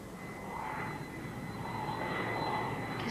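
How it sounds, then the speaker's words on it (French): An airplane passes overhead, a steady broad engine roar with a faint whine, sustained and fairly distant throughout, heard alone without voices. "C'est un avion."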